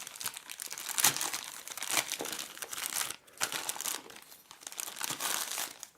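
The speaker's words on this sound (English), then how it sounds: "peeling open the seal of the plastic external wrapper right here" A plastic outer wrapper being peeled open on a wireless doorbell package: continuous crinkling and tearing crackle in irregular bursts, close and fairly quiet, with no voices.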